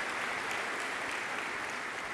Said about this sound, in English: Please, round of applause for Greg Mart of Mark Ford